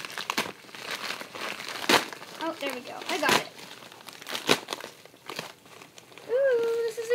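Plastic mailer packaging crinkles and tears as it is pulled open by hand without scissors, with bursts of crunching and ripping close up, while a person talks over it throughout.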